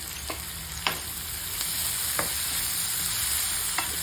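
Boti, a festival dish of tripe, frying in a pan with a continuous loud sizzle, broken by occasional sharp spatula scrapes and taps against the pan, no talking.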